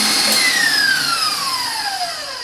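An electric mixer whirs loudly and continuously while whipping chocolate angel food cake batter, its high motor whine drifting slowly downward in pitch as it runs.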